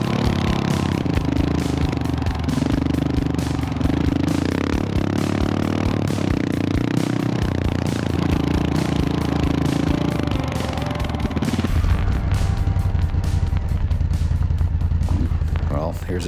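A KTM motorcycle climbs a steep, rocky off-road mountain trail, its engine labouring loudly alongside clattering and scraping over the rocks, shifting to a deeper rumble near the end.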